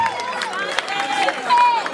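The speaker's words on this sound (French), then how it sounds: "Applaudissons pour lui." Guests at a birthday party clap and cheer for two seconds, a steady crowd of applause mixed with lively chatter and voices close by.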